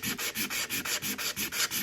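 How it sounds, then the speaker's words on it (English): Hand sanding of a metal project comes in rapid, even back-and-forth strokes, about ten rasping passes in under two seconds, close and steady, with no speech. "you can see where I've been sanding here"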